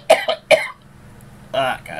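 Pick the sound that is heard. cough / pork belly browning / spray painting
cough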